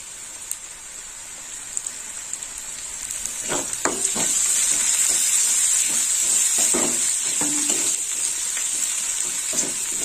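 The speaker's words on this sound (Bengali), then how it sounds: "আদাটা একটু ভালো করে ভাজা হোক।" Crushed ginger frying in hot oil for a prawn dal, giving a steady bright sizzle with scattered spatters and a few stirring scrapes, close and continuous with no talking.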